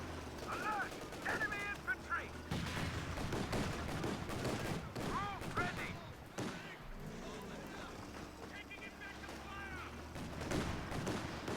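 Gunfire and explosions from a Company of Heroes 2 match, with the German Panzer II tank in combat: repeated cracks and bursts of shooting across the battle, with someone talking over the action throughout.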